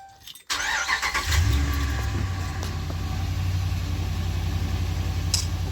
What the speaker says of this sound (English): Okay, let's start it up.